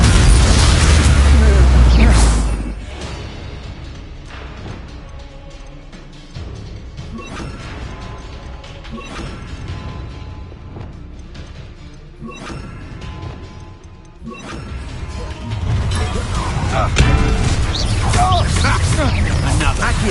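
An Incendio fire spell from Hogwarts Legacy erupts in a loud, roaring blast at the start, followed by combat rumbles and crashes, then another swelling burst near the end, with a voice heard amid the clash.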